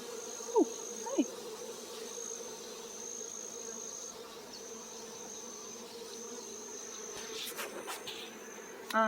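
Wild bee swarm in Hawai'i humming in a steady, soft, continuous drone, with a couple of brief louder buzzes as individual bees pass near.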